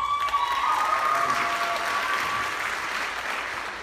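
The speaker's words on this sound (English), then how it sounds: "please give her a round of applause" An audience at a school mariachi and folk ballet performance applauds warmly, a dense burst of clapping that slowly fades, with a few faint cheers.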